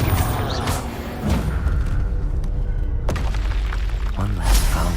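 A Confringo fire spell explodes in Hogwarts Legacy, a loud booming blast with crackling, shattering debris and a second impact burst later, over steady game background noise.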